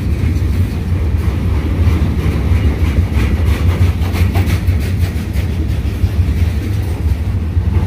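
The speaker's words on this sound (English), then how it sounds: "There's a locomotive back there. It's either a pusher or a DPU." A CSX freight train with a distributed power locomotive unit rolls past on a street-running line in La Grange, Kentucky, a steady loud rumble with rhythmic wheel clatter throughout.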